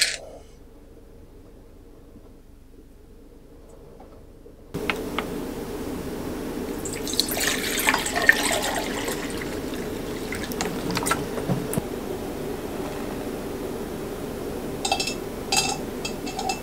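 Hot water being poured inside a cabin with a fire going in the fireplace on Hiiumaa, a quiet trickling and dribbling pour with soft splashes after a silent opening, lasting about twelve seconds.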